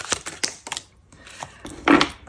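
Tarot cards being shuffled by hand, heard as several quick close riffling and slapping bursts with a short pause midway and a louder flurry near the end, no talking.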